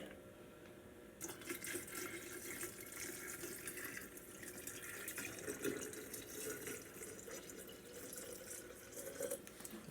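Mott's 100% all natural apple juice poured into a jar as a mead base, a steady splashing liquid stream starting after a second and running continuously, close and fairly quiet.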